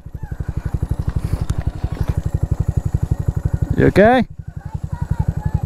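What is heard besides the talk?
Honda Monkey 125 motorcycle engine idling in woods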